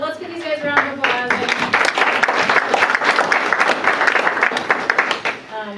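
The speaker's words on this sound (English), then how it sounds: "let's give these guys a round of applause." Applause from a workshop audience: many hands clapping steadily and fairly close for several seconds, with a voice briefly audible at the start.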